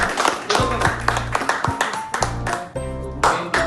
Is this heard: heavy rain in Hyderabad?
no